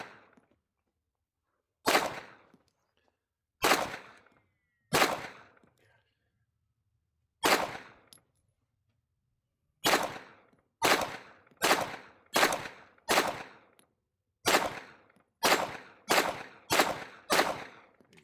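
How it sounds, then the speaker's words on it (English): A SIG P211 pistol fires about fourteen sharp, loud gunshots. The first shots are spaced by a couple of seconds, and the later ones come in faster runs, each followed by a short decaying echo. "This is Mark shooting the SIG"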